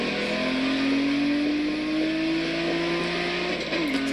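The engine of a Subaru WRX rev-matched in a high-mileage car holds a steady drone that slowly rises in pitch, loud and close, with no talking over it, then briefly dips at the end.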